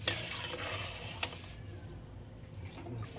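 Sugar being stirred in a cooking pot while making puto maya, a soft scraping and swishing of liquid that runs steadily under a low background hum, close and fairly quiet, with no talking.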